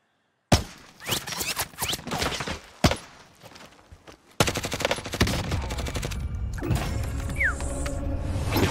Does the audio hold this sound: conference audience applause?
no